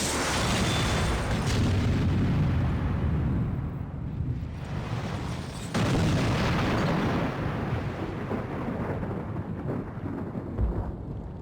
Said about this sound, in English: We finally had a very aggressive ignition